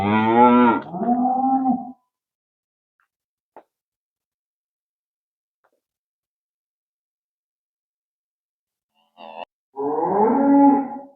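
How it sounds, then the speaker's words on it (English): Weaned calves and their mothers moo on a farm, with in-calf heifers and weanlings also in the group: a loud pair of moos opens, then a long quiet gap and a faint knock, then another loud, drawn-out moo near the end. "So what's left in this group now is the later calves and their mothers."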